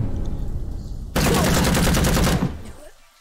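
In the Empire of Sin strategy game, a Tommy gun fires one loud, rapid automatic burst of just over a second, then rings out into quiet.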